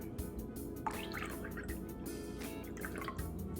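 Red Bull pours into a cognac drink as a short, soft trickle of liquid landing in a glass, with quiet speech alongside.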